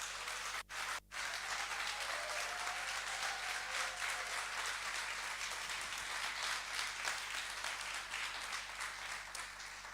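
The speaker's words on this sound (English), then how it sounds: "So a big round of applause" Audience applause for a speaker at a civil society and communities side event, a steady wash of clapping that runs almost unbroken for about ten seconds, broken only by two brief gaps near the start.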